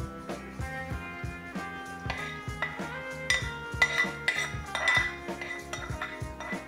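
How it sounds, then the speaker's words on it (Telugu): A hot tempering of fried urad dal is stirred into fresh turmeric carrot chutney, bringing a continuous clatter of a metal spoon against a steel vessel in quick, repeated clinks and scrapes, fairly close and steady throughout. "ఇప్పుడు మనము ఈ తాలింపుని క్యారెట్ చట్నీలో వేస్తాము."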